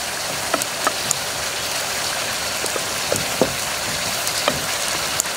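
Rice fries in fat with red paprika, giving an even, soft sizzle like light rain with scattered small pops and crackles across the few seconds.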